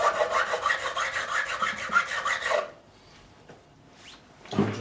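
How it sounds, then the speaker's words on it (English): Guitar fret ends on an ESP E-II Eclipse being filed and deburred, a rapid rhythmic rasping that runs for a couple of seconds, then stops, followed by quiet handling and one more brief scrape. "You'll notice I do go over to the other side just to finish off this deburring"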